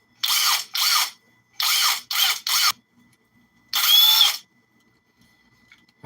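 A Hyper Tough cordless drill whirs close and loud in short bursts: five quick trigger pulls, then one longer spin, with no talking.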